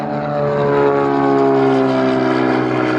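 A Cirrus single-engine airplane takes off, its engine a steady loud drone with strong harmonic tones that holds throughout, nearby and alone with no talk.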